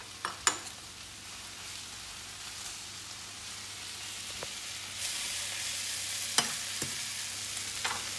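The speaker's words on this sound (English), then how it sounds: "I'm just going to mix it through, and what that's going to do is that's going to start caramelising the onions" Onions with rosemary and brown sugar frying in a pan, a steady, close sizzle broken by a few sharp knocks and scrapes as they are stirred.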